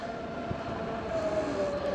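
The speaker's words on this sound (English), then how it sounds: "Here comes the train." Electric train rolling past a fence at a crossing, a steady broad rumble with a faint whine that swells slightly toward the end, moderately near and alone without talk.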